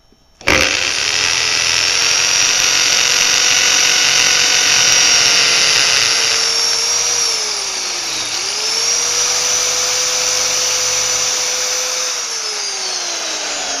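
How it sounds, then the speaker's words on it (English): A loud hammer drill whines continuously for several seconds close by as it drills a hole, its pitch dipping briefly as it bites, then steadying before easing off near the end. "I want to show you how easy it is to use a hammer drill"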